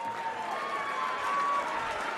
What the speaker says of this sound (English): a massive round of applause for your finalist from the Netherlands, Eileen de Graaf